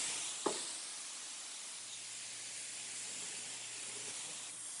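A car wash wand runs its spot-free rinse, a steady broadband hiss of spraying water held evenly for several seconds after a brief click at the start, with no talk.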